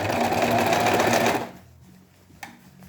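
A sewing machine stitches a cuff in a fast, loud, close mechanical whir for about a second and a half, then stops abruptly, leaving quiet room tone and a single faint click.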